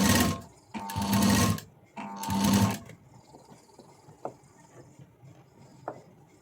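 A sewing machine stitches blouse fabric in two loud running bursts of about a second each, separated by a short pause, followed by quieter handling taps.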